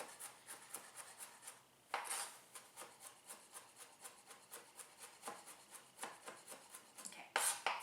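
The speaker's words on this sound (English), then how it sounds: "I'm just scraping out all into the middle. It becomes a smaller and smaller pile as it gets more and more minced." A knife blade rapidly taps and scrapes on a cutting board while mincing ingredients for a chicken shawarma marinade, a dense, quiet, steady rhythm with a few louder scraping sweeps, close and without talk.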